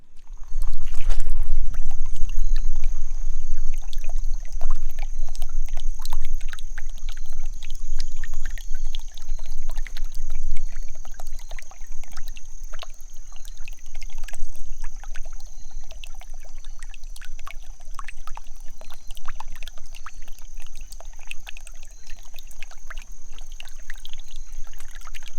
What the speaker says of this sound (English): enjoy the creek right there beside you